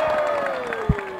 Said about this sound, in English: give a massive cheer to Southfields and to the switching on of the lights tonight